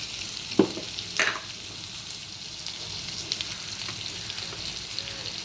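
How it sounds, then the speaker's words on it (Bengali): Potatoes frying in oil for a banana flower ghonto, a continuous close sizzle with two sharper clatters early on as they are stirred or tossed, no voices. "আলুটা ভাজবো, সময় দেব।"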